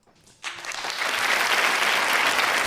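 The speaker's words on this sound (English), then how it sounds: "Everybody's applauding him now" Studio audience on Dr. Phil breaking into applause, starting thin and quickly swelling into a loud, sustained wash of clapping that holds steady to the end.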